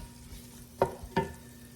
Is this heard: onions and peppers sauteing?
yes